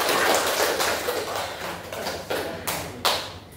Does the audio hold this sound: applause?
yes